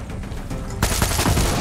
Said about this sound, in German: Ja, der letzte Schuss, oder wie?